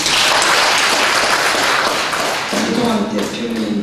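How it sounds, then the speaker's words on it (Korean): A church congregation breaks into dense, loud applause that carries on steadily, with a voice starting to speak over it in Korean toward the end. "우리 수고하는 전체 식구를 위해서 박수 한번 치겠습니다"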